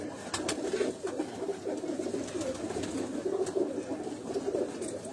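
Pigeons in a breeding loft of old birds coo softly and continuously, several overlapping low calls close by, with steady background noise and no talk.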